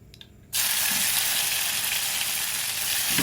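Sweet and sour beef cooking in a hot pan, starting with a faint clink, then an abrupt, loud, steady sizzle that fills the rest of the moment without any voices.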